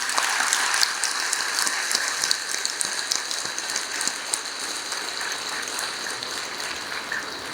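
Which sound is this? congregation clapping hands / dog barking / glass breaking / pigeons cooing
congregation clapping hands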